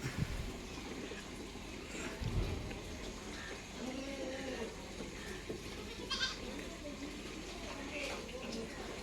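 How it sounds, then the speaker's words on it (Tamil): Three-month-old Ettayapuram goat kids bleat on a farm, a few wavering cries rising over steady outdoor noise while a person talks throughout. "எல்லாம் ஒரிஜினல் எட்டயபுரம் பொட்டுக்குட்டி."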